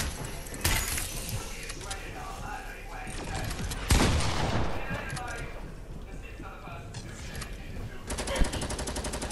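Rapid bursts of gunfire and shattering hits from a Fortnite match come loud and dense throughout, with a sharp boom near the end, while players talk excitedly over the action.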